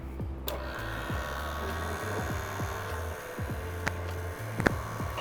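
A stand mixer's whisk attachment beats egg white powder and water in a bowl for sugar cookie icing, giving a steady motor hum with regular rhythmic ticks and scrapes as the whisk knocks around the bowl.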